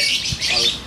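Birds chirp and squawk in a short, busy burst, several calls overlapping at close range.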